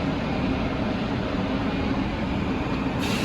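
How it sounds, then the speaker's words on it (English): A Bronx subway train rumbles steadily near Buhre Avenue, a loud continuous low drone of engine and air conditioning inside the car, with no talking. "The engine is blasting."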